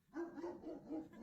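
Dog barking in a video, a few quick, soft barks in a row with whimpering yips, heard faintly and fairly close with no talk over it.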